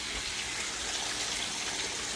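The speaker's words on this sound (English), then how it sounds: "I'm going to add a little bit of water to this" Steady rush of water being poured into a pan of garlic, a soft continuous hiss and splash at low volume with no talking.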